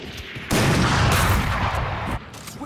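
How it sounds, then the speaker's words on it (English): A sniper shot rings out in a competitive video game showmatch as one loud, sharp blast that holds and reverberates for over a second before cutting back to quieter background game sound. "Oh, and he just gets sniped by Artemis."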